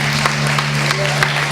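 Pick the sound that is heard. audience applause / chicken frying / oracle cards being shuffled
audience applause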